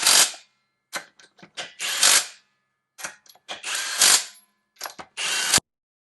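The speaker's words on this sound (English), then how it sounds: "So I'm just going to hit it until it starts to ratchet." A SEYVUM 1/2-inch drive cordless brushless impact wrench tightening lug nuts on a car wheel, loud close bursts of rapid hammering that start and stop repeatedly, each burst rattling for a moment before cutting off into silence.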